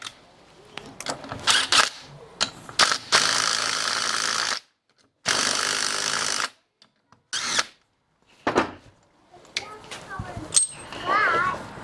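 Bearing puller working a bearing out of a G5 rear suspension during a torsion delete, heard as several loud bursts of power-tool whirring separated by short silent pauses.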